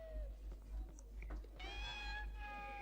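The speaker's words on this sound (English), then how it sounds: "They sound like dying cats." Cornish pixies from the Harry Potter 2 PSX video game give shrill, wavering meow-like screeches that rise after a stretch of scattered noises, sounding like a caterwauling cat, fairly close and continuous.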